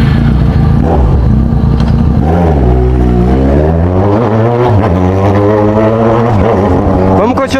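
A Yamaha XJ6 motorcycle engine cranks and catches, loud and close, its pitch rising and falling as it revs unevenly, with someone talking over it.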